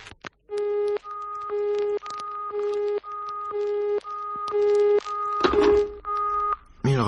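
Telephone busy tone heard after a hang-up in a French radio drama, two steady pitched notes alternating with silence in a regular on-off rhythm, loud and close, with a brief rustle near the end.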